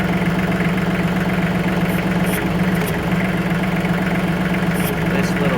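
A TYM 2515 compact tractor engine idles steadily, a loud constant low mechanical drone with a faint rapid knock and vibration, unbroken throughout with a few light clinks on top.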